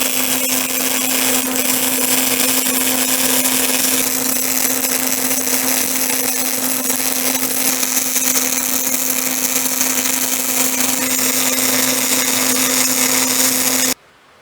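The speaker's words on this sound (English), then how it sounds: "We'll weld that cross member in." A truck cross member being welded in place: a loud, steady buzzing roar with a constant low hum beneath it, unbroken for about fourteen seconds before it cuts off abruptly.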